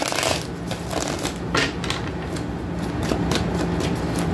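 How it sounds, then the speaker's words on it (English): Soft papery riffling and shuffling of tarot cards, continuous and close, with a few sharper flicks. "let me just give these a shuffle."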